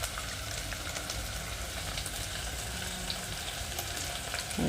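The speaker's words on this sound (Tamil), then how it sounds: "வெங்காயம் சிம்மில் வதங்கட்டும்." Onions sautéing gently in a pan on a low flame, a steady, even sizzle resembling light rain, constant and close with no stirring accents or voices.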